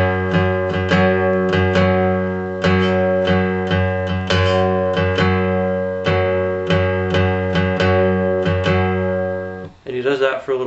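An acoustic guitar with a capo repeatedly plucks the low sixth string while notes ring above it, forming a steady rhythmic riff with sustained harmonics, played up close and clear, ending in a brief scrape.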